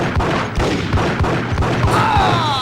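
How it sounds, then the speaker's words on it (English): Gunfire in Max Payne during bullet time, heard as a loud, steady run of heavy, booming shots about every quarter second, with a ringing whine near the end. "The main one being the big innovation this game brought forward, which is bullet time"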